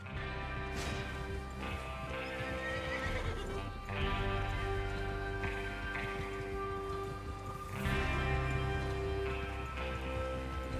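A horse in the Red Dead Redemption 2 western video game neighs loudly several times while its hooves clip-clop steadily nearby, all set over a sustained musical score.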